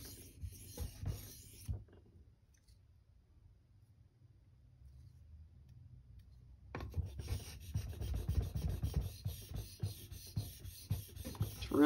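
Freehand knife sharpening on a King Neo 800 whetstone: soft rhythmic rasping strokes of steel on stone, quiet and close, pausing for a few seconds of near silence before the scraping resumes, steadier and a bit louder.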